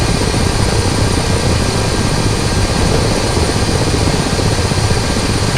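A Ka-50 helicopter flies in a video game, producing a loud, constant engine and rotor drone with a dense low rumble and steady high whine, heard alone without pauses.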